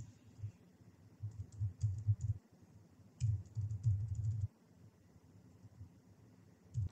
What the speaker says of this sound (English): So when we type in this command